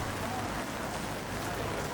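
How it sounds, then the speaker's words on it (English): Dense, steady rain hiss fills the clip, a constant broadband wash with no breaks. "The pouring rain on the first day drove most people indoors"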